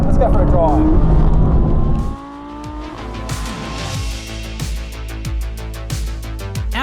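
A 2020 Audi R8 V10 Performance coupe revs hard, then its engine note drops and climbs again through rapid upshifts, each gear change a sharp break in a loud, rising V10 howl heard close up.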